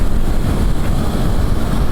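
Strong wind buffets the microphone during a motorcycle ride home from Cubao to Balintawak, a loud, steady low rumble with gusty roar filling the whole clip and no voices.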